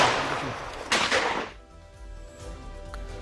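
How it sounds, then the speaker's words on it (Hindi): A loud burst of gunfire during violent unrest in Manipur, a dense crackling blast followed by a second shot, then fading into quieter rumbling background. "शांति का एक दौर था, उसके बाद फिर से फायरिंग शुरू हो गई।"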